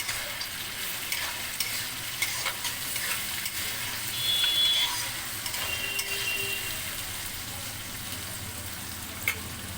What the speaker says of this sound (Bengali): আমি একটু ডালটা নেড়ে নিচ্ছি